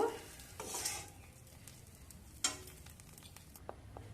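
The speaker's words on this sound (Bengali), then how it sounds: "এবার ভালো করে খুন্তি দিয়ে ঢেঁড়স মশলা মিশিয়ে নিয়ে একটা প্লেটে বের করে নেব" A spatula stirring okra masala in a pan, soft scraping and light sizzle with a sharper knock of metal midway, close but fairly quiet, with no talking.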